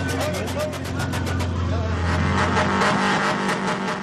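Drifting car engines roar at night on the outskirts of Kuwait City, a loud sustained revving drone with rhythmic pulsing that swells slightly toward the end.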